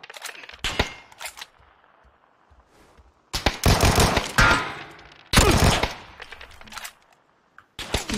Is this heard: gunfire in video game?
yes